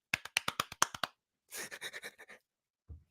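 A quick burst of about eight sharp hand claps in rapid succession, done as an imitation of Trudeau's clapping, followed by a brief rustle and a soft thump, close and alone.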